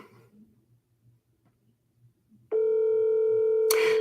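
A telephone line tone on an outgoing call to a real estate agent sounds as a steady, loud, continuous buzz that starts abruptly after a quiet stretch with faint background noise, then briefly breaks into a burst of static at the end.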